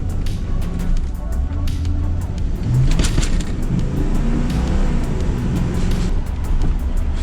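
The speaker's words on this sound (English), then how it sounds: "Let's take it out for a drive." A 30-year-old Pontiac Trans Am pulls away after a tune-up, its steady low engine rumble loud and close, with road and wet-surface noise running under it throughout.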